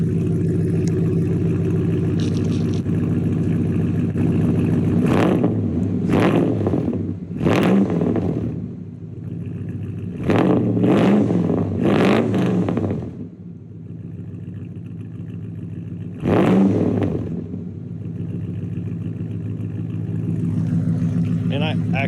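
A Dodge 360 Magnum V8 with an aftermarket catback exhaust idles with a deep burble, then gets several quick throttle blips that roar up and fall back, loud and close, over a steady idle.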